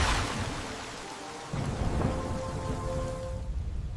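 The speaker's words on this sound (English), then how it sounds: "Then the rain began to fall." Heavy rain falling with rumbling thunder in a storm, a dense hiss of rainfall over low booming rolls, with the rumble swelling louder partway through.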